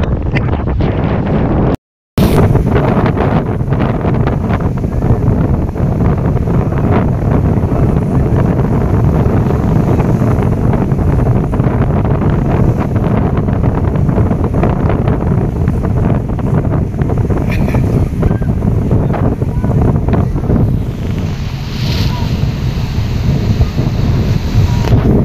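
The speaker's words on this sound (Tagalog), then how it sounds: "Grabe lakas ng alon." Strong sea waves crash and roar at a shoreline while heavy wind buffets the microphone, forming a loud, continuous wash of noise with no talking.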